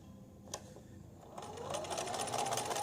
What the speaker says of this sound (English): And then sew right over the seam